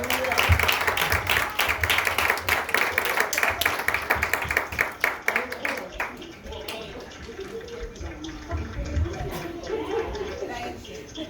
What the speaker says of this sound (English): Let's give her a hand clap as she comes forth.